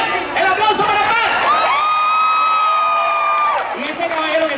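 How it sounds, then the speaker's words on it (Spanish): A crowd at a live event cheers loudly, with sustained whoops, shouts and some clapping in a dense, continuous roar. "¡El aplauso para Pat!"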